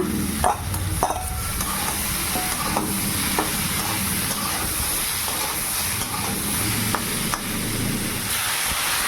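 Cauliflower and flat beans sizzle and fry in a pan of spices, with intermittent scraping stirs and a steady hiss running throughout, close and fairly loud.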